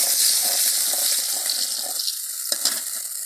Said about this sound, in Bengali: এখন দিমু পানি